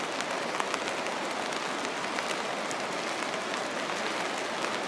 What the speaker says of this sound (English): It's a rainy December 31st here.